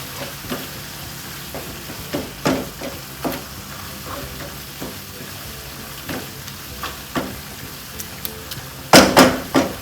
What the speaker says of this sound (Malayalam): ഇതിനകത്ത് 1 ടീസ്പൂൺ ഗരം മസാല എല്ലാം കൂടെ നല്ലതുപോലെ മിക്സ് ചെയ്യാം.